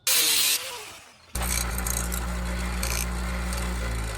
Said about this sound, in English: Yeah, it's always a good time cutting down a bolt.